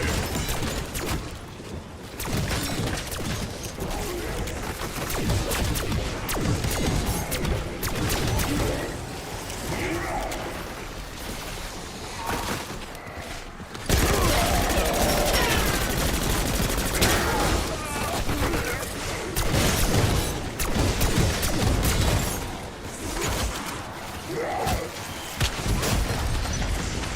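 Dense, rapid gunfire in Black Ops 6 Zombies, sustained automatic bursts and booms throughout, growing louder and heavier in the second half.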